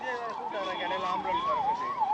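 An ambulance siren wails in a rising and falling pattern, loud and close, amid a tense crowd scene in Karur, with faint voices underneath.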